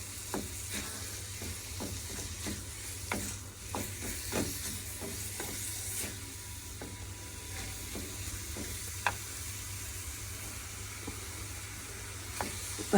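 Vegetables brown in a pan under a soft, steady sizzle, with scattered sharp pops and the clicks of stirring heard up close.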